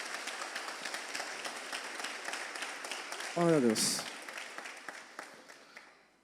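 A church congregation applauds, moderate dense clapping under a short spoken exclamation and a brief sung or shouted tone midway, fading toward the end.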